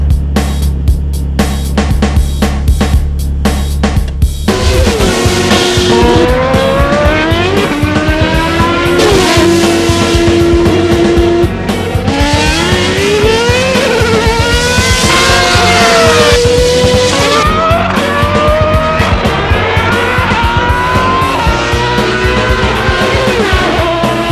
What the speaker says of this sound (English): Ferrari's Fiorano test track is a secret world of automotive delights, including the testing of some Formula One racing cars as we arrived.